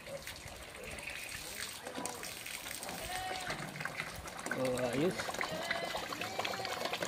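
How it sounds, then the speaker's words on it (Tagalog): Water gushes steadily from the outlet pipe of a homemade free-energy water pump outdoors, a continuous splashing flow heard under close, ongoing talk. "May tubig na tayo, unli unlimited tubig."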